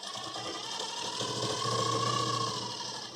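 A sewing machine stitching a fabric side seam, a steady fast mechanical whirr with rhythmic needle clatter running continuously and fairly close, with no talk over it.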